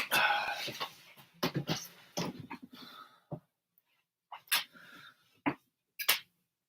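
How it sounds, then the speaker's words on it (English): A small puppy whimpers and yips for attention in a series of short, close bursts, with quiet gaps between the later cries. "My dog wants attention."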